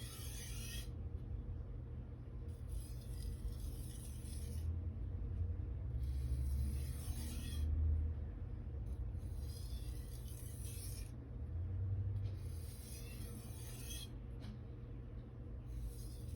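An Aogami Super carbon steel knife is drawn across a whetstone to clean off the burr, giving steady rasping, scraping strokes in a repeating rhythm, close and fairly quiet, with no voices.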